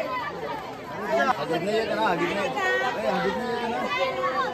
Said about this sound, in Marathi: भाविकांची गर्दी मंडळी.